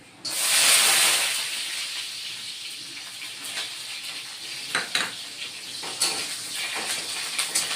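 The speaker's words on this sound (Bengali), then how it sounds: "ডালের বড়িটা ভেজে নিয়ে নিচ্ছি" Dried lentil dumplings (bori) frying in hot oil, a strong sizzle at first that settles into steady hissing with occasional stirring clinks from the pan, close and alone.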